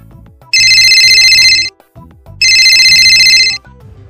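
A phone ringtone plays in two loud bursts, each about a second long with a short gap between, a bright electronic warble over quiet background noise.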